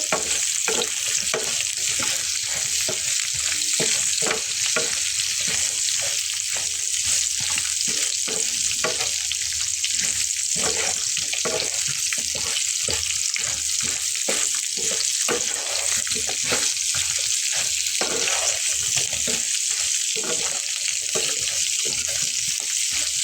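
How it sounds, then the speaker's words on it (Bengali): Potatoes and pointed gourd fry with salt and turmeric, a loud, steady sizzle running throughout with constant rhythmic scraping and stirring close by and no talking. "লবণ হলুদ দিয়ে খুব সুন্দর করে লাল লাল করে ভেজে নেব।"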